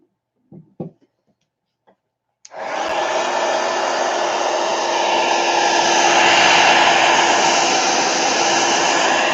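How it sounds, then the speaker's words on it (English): A hair dryer switched on to dry a craft page, a loud steady whooshing blow that starts after a few faint handling clicks and runs continuously, heard close up. "Let me dry it real quick."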